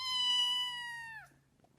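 A single cat gives one long, clear meow that holds steady and then bends downward and cuts off, close and alone, followed by near silence.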